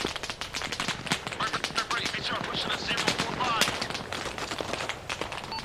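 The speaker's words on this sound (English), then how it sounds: "it sounds like gunfire coming from the area of that military camp" Rapid bursts of automatic gunfire and scattered single shots crackle continuously in Arma Reforger near a military camp, with voices talking over the firefight.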